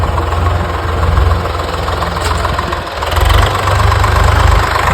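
A tractor engine running close by, a loud, steady low rumble with a rough knocking pulse that dips briefly and then swells again.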